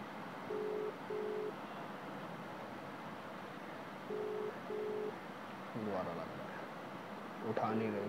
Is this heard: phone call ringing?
yes